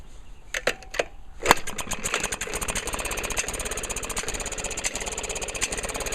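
A small engine starts after a few clicks and settles into a steady, rapid chugging idle, its exhaust run through a hose into a bucket, giving a close, muffled, evenly pulsing sound.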